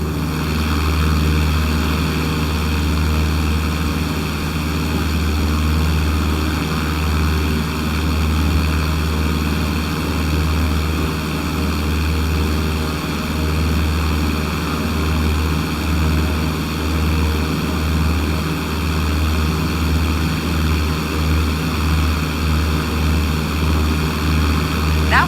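Propeller aircraft taxiing before takeoff, a steady loud droning engine and propeller hum with a low pulsing throb that runs unbroken throughout, with no voices.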